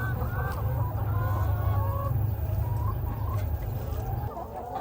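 Chickens cluck softly at a Lao family's home farm in America, scattered chirpy calls over a steady low rumble, with people talking throughout.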